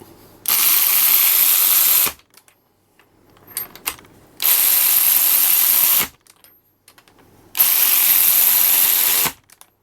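A knock-off Milwaukee M18 3/8-inch cordless electric ratchet runs flange nuts down in three loud, close bursts of whirring motor and rattling gears, each lasting about two seconds, with quiet handling clicks in the gaps.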